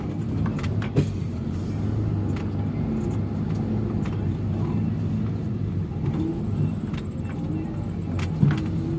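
A heavily loaded 26.280 truck rolls slowly across a work site, producing a steady, close, low engine rumble broken by occasional knocks and clunks, with no talk.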